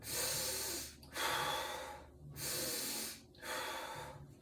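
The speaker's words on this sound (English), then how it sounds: "practice breathing with your belly" Slow, deep belly breaths, three long airy inhales and exhales with short pauses between them, close and soft with no talking.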